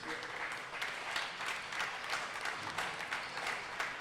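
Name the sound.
crowd applauding after squash match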